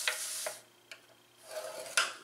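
A paper box bottom is scored on a scoring board, making soft, faint scraping strokes in short bursts with quiet gaps between them and small ticks.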